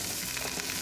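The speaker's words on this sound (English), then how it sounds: "The onion goes in." Onion frying in sesame and olive oil in a pot, a brief dense hiss of steady sizzling, close and even throughout, with no voices.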